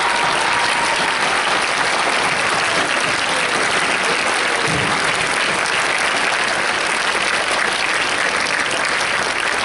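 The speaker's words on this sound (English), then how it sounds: "please stand up and give a rousing round of applause for all of the people who have helped support us." A standing law school graduating class at a fall 2014 commencement gives sustained, loud applause, a dense even roar of clapping that holds throughout.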